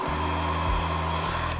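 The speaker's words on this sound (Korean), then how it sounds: "드라이기랑 돈모 가시롤 1호" A handheld hair dryer blows hot air while styling hair with a boar-bristle brush roller, a steady loud whirring drone that holds one pitch and shifts slightly partway through.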